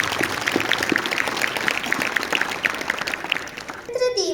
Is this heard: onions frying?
no